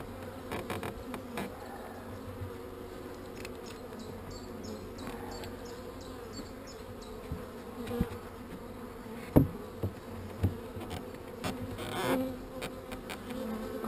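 Calm honeybees buzz around a hive frame near brood, a steady close hum with individual bees passing by and occasional soft knocks and handling sounds.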